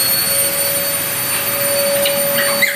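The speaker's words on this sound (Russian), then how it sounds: "А все потому, что я пылесошу." A household vacuum cleaner running indoors near macaw, eclectus and Cuban amazon parrots, a loud steady whine with a sustained tone, close and continuous, with faint chirps near the end.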